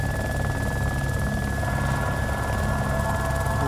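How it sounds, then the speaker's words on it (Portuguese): A steady helicopter engine drone starting up in the video game DayZ, with a low rumble and a thin constant whine, continuous and fairly loud throughout, no voices. "É para poder ligar o helicóptero."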